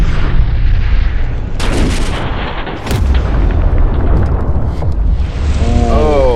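An RPG rocket detonates against a car door in a roaring, sustained blast with rumbling debris and crackling bursts, loud and close throughout.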